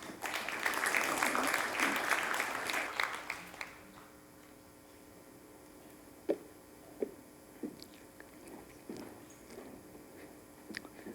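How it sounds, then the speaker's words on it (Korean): A conference audience at a talk on ageing and finance claps for the next lecturer in a loud burst that fades after about four seconds, leaving a quiet room with scattered small knocks and rustles. "큰 박수 부탁드립니다."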